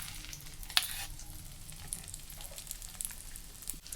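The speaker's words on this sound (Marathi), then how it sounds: "तर ही ब्रेड ह्या तेलामध्ये ठेवून घेणार आहे" Egg-coated bread fries in oil in a home kitchen, a soft, steady sizzle with faint crackles and an occasional light clink, fairly quiet throughout.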